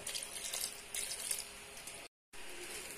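Water pours steadily into a cooking pot while jackfruit curry is being made, a continuous splashing hiss that cuts out briefly near the end and then resumes.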